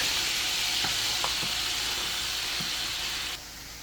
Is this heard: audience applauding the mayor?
no